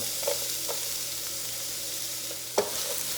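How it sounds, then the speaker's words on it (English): Onion dropped into hot chicken drippings sizzles steadily in a pan over medium heat, with a few sharp spatter pops standing out against the constant hiss. "And leaving in the drippings, we're going to add our onion."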